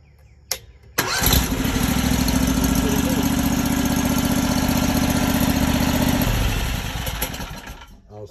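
A Predator 670 engine with a heat-wrapped exhaust extension fires up after a short starter crank and settles into a loud, steady idle nearby, fading toward the end.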